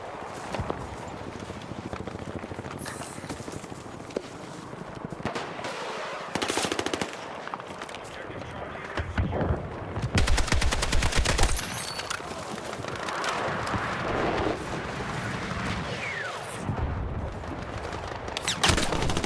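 Gunfire from a pump-action shotgun in the Battlefield 6 shooter game, with repeated sharp shots and rapid bursts mixed among other in-game weapons, footsteps and ambient combat noise in a continuous loud battle soundscape.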